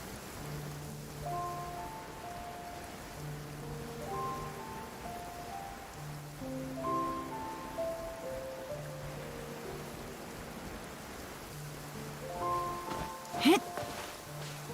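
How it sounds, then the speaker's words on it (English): Steady, fairly faint rainfall from the video game Genshin Impact hisses beneath a soft melodic music track, with a brief sharper burst near the end. "It's raining again?"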